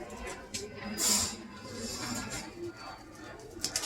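A pigeon coos softly near the microphone, low throaty calls against quiet background rustling, with a brief sharper noise around the middle.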